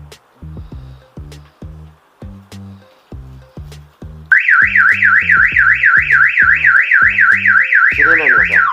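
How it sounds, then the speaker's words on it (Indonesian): A remote anti-theft alarm on a Yamaha NMAX motorcycle sounds repeated short beeps, then switches to a loud, continuous warbling siren that rises and falls rapidly and evenly, close by, with no talk over it. "Yang barusan sirene menggunakan sirene"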